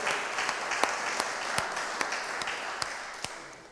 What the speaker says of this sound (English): So, a huge round of applause, congratulations, well done.